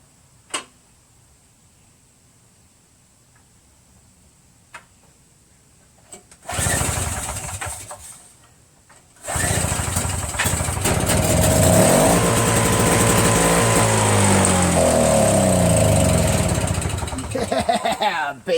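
A Tecumseh 5HP engine swapped onto an MTD Yardman single-stage snowblower is started: a few faint clicks, a brief loud cranking burst that dies, then the engine catches and runs steadily and loudly close by, revving slightly near the end.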